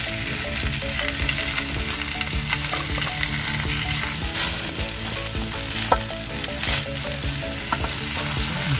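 Fried rice sizzling and being stirred as it cooks inside bamboo, a steady, close frying hiss with scraping stirs and a few sharper clicks throughout, no voices.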